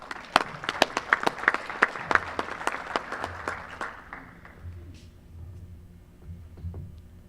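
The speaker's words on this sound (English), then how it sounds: "you should give yourself a round of applause" Audience at a U.S. Senate candidates forum clapping, a run of sharp, distinct claps from a smallish group that thins out and stops partway through, leaving a quiet room with low hum.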